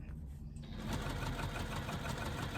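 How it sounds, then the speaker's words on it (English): A home sewing machine running a long basting stitch on fabric, starting after a brief pause and then chattering steadily with a fast rhythmic needle thump, close and even. "sew baste it in place"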